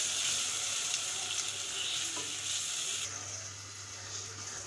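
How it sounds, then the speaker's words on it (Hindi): Meat and potato curry masala with tomato paste being fried for aloo gosht shorba, giving a loud, steady sizzle up close that eases slightly partway through, with faint stirring. "टमाटो पेस्ट डालने के बाद भी हमने 1 से 2 मिनट तक अच्छे से इसकी भुनाई कर लेनी है।"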